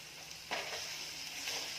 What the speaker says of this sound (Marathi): कांदा मी परतून घेत आहे